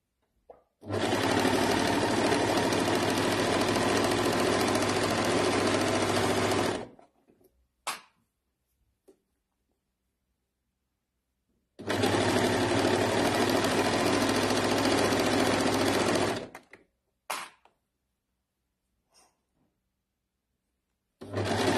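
A sewing machine stitches fabric in two long, steady loud runs of about six and five seconds, each stopping abruptly, with brief clicks and handling noises in the quiet gaps between.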